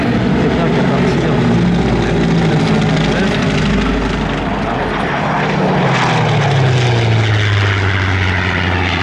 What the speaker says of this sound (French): Quand vous allez voir le Junker 52 qui va revenir sur votre gauche, vous pourrez voir les cylindres